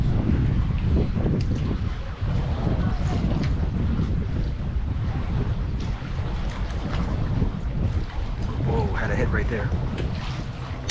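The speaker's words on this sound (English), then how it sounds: "Also, the wind picked up too, so if you guys hear that, you know why." Strong wind buffets the microphone at a fishing pier at Fort Monroe on Chesapeake Bay, a loud continuous rumbling roar with faint water and surf beneath and occasional voices.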